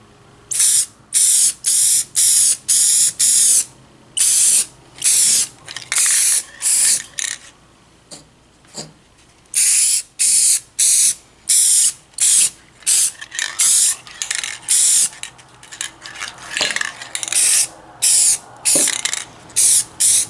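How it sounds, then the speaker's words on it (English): Rust-Oleum matte clear enamel spray paint hisses out in a long series of short, separate bursts with brief pauses between them, fairly loud and close, with no talking. "Just a little bit of Rust-Oleum matte clear enamel"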